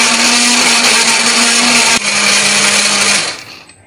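Electric blender grinding chopped chili peppers with water or oil into a smooth paste, a loud steady whir that dips briefly, resumes, then winds down and stops.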